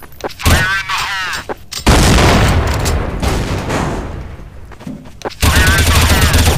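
A grenade explodes in Counter-Strike: heavy booms and bursts of gunfire, with a loud crashing blast in the middle and game voice lines breaking in between, all close and loud.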